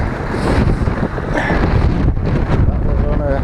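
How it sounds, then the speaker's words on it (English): Strong wind buffets the microphone outdoors beside the water while fishing, a loud continuous roaring rumble with gusting surges, and a voice is partly heard under it. "This wind is horrendous."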